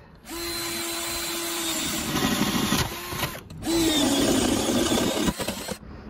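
A power drill bores holes in a model railway baseboard while point motors are being fitted: two sustained whining runs with a steady motor tone, a brief pause between them, loud and close, with no talking.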